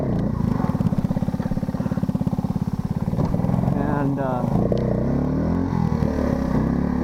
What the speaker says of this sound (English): As you can hear, it does that little backfiring